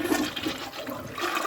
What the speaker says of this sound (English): is the next flush going to take this away?